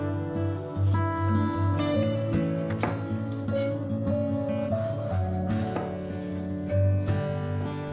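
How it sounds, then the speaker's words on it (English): A knife slicing a sweet bell pepper on a cutting board, heard as a run of quick, crisp cuts under steady background music. "Slice a sweet bell pepper."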